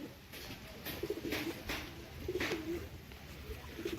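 Deshi Golla pigeons cooing in a coop, several soft, low, rolling coos repeating at intervals, close by and fairly quiet over a faint background hiss.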